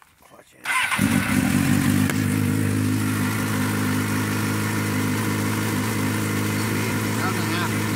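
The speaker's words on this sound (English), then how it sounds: "I'll start the bike, show you what happens here" A 2004 Suzuki GSX-R600 motorcycle engine cranks briefly and catches under a second in, then settles into a loud, steady idle that holds close by for the rest of the clip.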